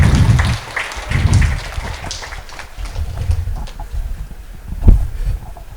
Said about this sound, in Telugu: ఆనంద్ ప్రసాద్ గారికి గట్టిగా క్లాప్స్ కొట్టుకుందాం